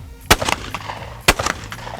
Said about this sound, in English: All right, let's shoot a pair now.